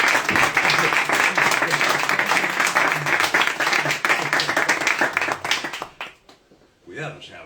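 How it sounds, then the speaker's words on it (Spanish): An audience bursts into steady, loud applause that holds for several seconds, then trails off into scattered claps and silence, with a brief voice near the end. "Creo que se merece un aplauso."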